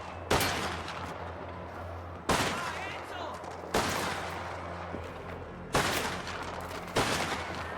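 Gunfire in Mafia The Old Country, five loud shots or short bursts spaced about a second or more apart, each with a long reverberant tail, over an ongoing gameplay ambience with voices faintly mixed in.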